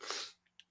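A single short, sharp sneeze, close and fairly quiet, followed by a couple of faint breathy sniffs or snorts, with no talk.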